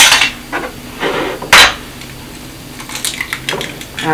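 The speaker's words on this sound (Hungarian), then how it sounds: "leütöm a 2 tojást" Two eggs are knocked against a bowl's edge and cracked open for Hungarian nokedli dough, giving sharp taps and clacks, one loud crack near the middle, with light kitchen clatter and no talking.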